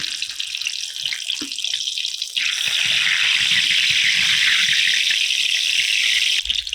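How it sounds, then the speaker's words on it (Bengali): Chilli fritters (lonkar chop) frying in hot oil, a steady loud crackling sizzle that runs throughout and grows fuller partway through, with no talking. "ওই মুচমুচে আওয়াজটা শোনো শুনো দেখো দুটো লঙ্কা কি সুন্দর ভেসে উঠেছে"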